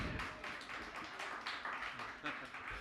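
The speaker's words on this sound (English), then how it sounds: "You clap that, because he'll feel bad if you don't." Audience at a western music concert in a society hall claps for a performer, in a steady, moderately loud wash of applause that runs the whole moment.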